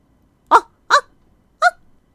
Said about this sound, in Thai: พูดยังไม่ทันขัดคำเสียงเห่าดังก้องกังวานก็ดังลอยเข้ามาในห้องนั่งเล่น